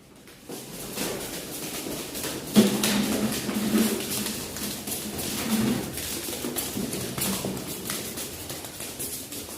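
Pigeons coo softly a few times at a pigeon farm in Mirpur, Dhaka, over a steady, rustling background noise.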